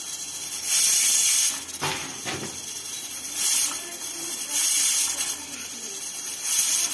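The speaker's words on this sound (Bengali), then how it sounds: "প্রেসার কুকারে দিয়ে দিয়েছি।" Pressure cooker hissing steadily while mutton cooks, a continuous bright steam hiss with a few louder surges, heard up close with no talk.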